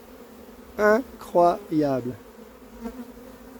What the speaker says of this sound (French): Toutes les abeilles sont dans le carton, c'est génial.